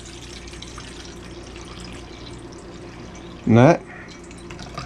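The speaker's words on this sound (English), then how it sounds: "I'm going to fill it with water." Water is poured from a 12-ounce can into a mixing bowl, a brief splashing gush of about half a second over steady kitchen background noise.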